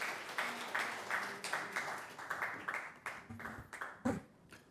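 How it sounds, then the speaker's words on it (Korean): A small audience at a 40th anniversary ceremony gives faint, loosely rhythmic applause, pulsing in uneven bursts before tapering off. "우리 성원의 박수 부탁드리겠습니다"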